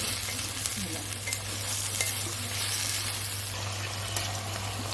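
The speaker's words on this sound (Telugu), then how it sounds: "సో ఇవైతే బాగా వేగాలి నెక్స్ట్ బంగాళదుంప కూడా తీసుకున్నాం" Vegetables and potato pieces fry in a pan with a steady, close sizzle, along with occasional stirring scrapes and no voices.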